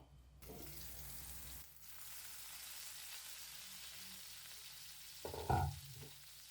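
Poori masala sautés in oil in a covered pan, producing a steady soft sizzle throughout, with a brief louder clatter near the end, probably the lid or a utensil.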